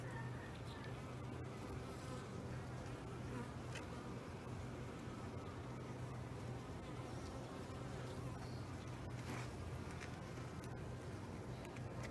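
Honey bees buzz in a dense, steady drone around an opened Apimaye hive during an inspection, the hum continuous and close throughout with no talk over it.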